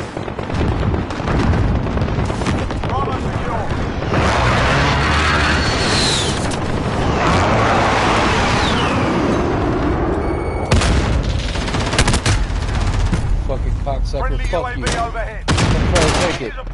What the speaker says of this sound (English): Be advised, friendly position airstrike inbound.